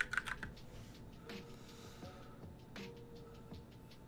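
A computer keyboard is pressed in a quick cluster of key taps for a shortcut during coding, followed by a few sparse, faint clicks, close and quiet with no talking.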